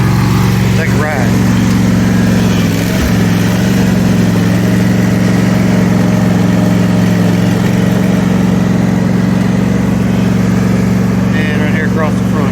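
A riding lawn mower engine drones steadily and close throughout, a constant loud hum with someone talking over it.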